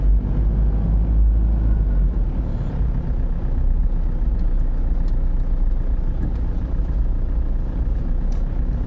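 A car or other road vehicle rolls past on a street in Cabanatuan during a property viewing, a steady low rumble that stays loud and close across the whole stretch.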